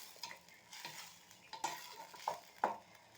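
Tomatoes and onions are sautéed for a paneer gravy, with a spatula scraping the pan in regular, evenly spaced strokes over a quiet, soft sizzle.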